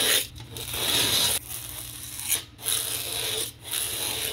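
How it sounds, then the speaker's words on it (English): Foam strip being cut for packing around a welder's wire spool, with rough tearing and rasping strokes in short bursts separated by brief pauses, close and moderately loud. "Cut a strip 5 inches wide."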